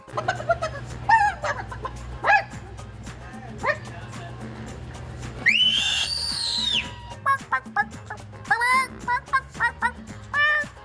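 At a cluck and crow contest at an annual Chicken Festival, a man imitates a chicken clucking in short bursts, then gives a long, rising rooster crow, with more clucks after it.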